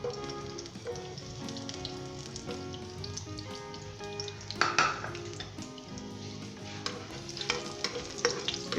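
Garlic sizzles and crackles in hot oil while being stirred, with occasional scraping of a utensil against the pan; no talking.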